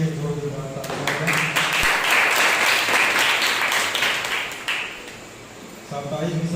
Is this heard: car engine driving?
no